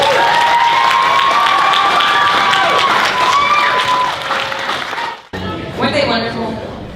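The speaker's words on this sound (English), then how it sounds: "Let's give a round of applause to our recitators." A school audience at a Poetry Out Loud recitation competition applauds and cheers for the student reciters, loud and sustained with voices and tonal shouts mixed in, then cutting off abruptly near the end as chatter follows.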